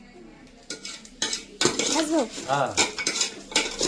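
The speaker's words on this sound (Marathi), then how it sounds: "त्याला मस्तपैकी छान एकजीव होण्याचं हलवून घ्यायचं." A metal spoon scrapes and clatters against a cooking pot while goat mutton is stirred for ukkad, with irregular close knocks and scrapes and a voice speaking briefly over the stirring.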